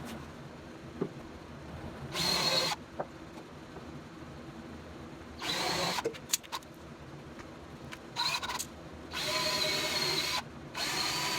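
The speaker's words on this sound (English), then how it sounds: "I'm going to clamp it in place so that it will stay put while I re-drill it, get some screws in there." A power drill drives screws into a wooden kitchen box held by a clamp, running in several short bursts of whirring separated by quieter pauses and small clicks.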